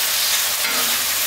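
Steady, loud sizzling of coconut stewed beef with red beans in a pot, a continuous hiss of frying with no voices.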